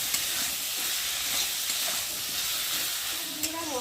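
Spice paste with ginger paste, vegetables and fried shrimp sautéing in a pan, a steady close hiss and sizzle with soft stirring scrapes and a brief clink near the end, no talking.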